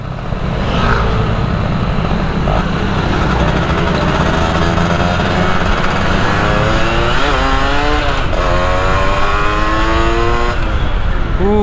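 A Yamaha F1ZR motorcycle fitted with a ported block accelerates hard, its loud, close engine note climbing through rising revs in repeated pulls and dropping between them.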